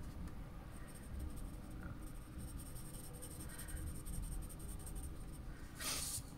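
A pencil shades a sphere drawing on paper, a soft, steady scratchy scraping that continues in close strokes, with a brighter brush of graphite near the end.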